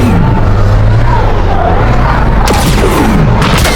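A cannon firing from a vehicle in the Fortnite Creative Star Wars game, heard as loud booming blasts over continuous engine rumble, with a sharper burst of shots near the end.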